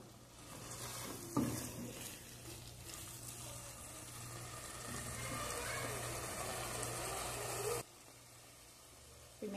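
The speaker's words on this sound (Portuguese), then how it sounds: "Refoga o couve, bem refogado." Kale (couve) sautéing in a pan: a continuous close sizzle and frying hiss with a knock near the start, cutting off abruptly near the end, with no talking.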